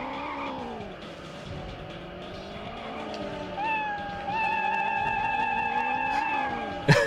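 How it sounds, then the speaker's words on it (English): A remote control cat toy in the video game TimeSplitters: Future Perfect drives off with a steady, rising motor whine. The whine starts a few seconds in over busy game ambience and ends in a sharp, loud burst. "there's a remote control cat here as well"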